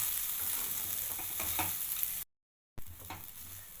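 Leftover rice is stirred into a fried mixture in a pan, giving a close, continuous sizzle with a few soft scraping strokes and a brief dead-silent gap near the end.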